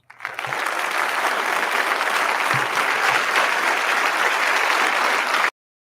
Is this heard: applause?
yes